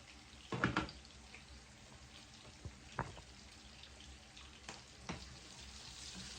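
Onion rings sautéing in a pan for coconut-milk cutlets, giving a quiet, steady background sizzle with a few sharp clatters and utensil knocks early on.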